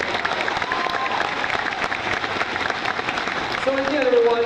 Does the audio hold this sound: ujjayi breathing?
no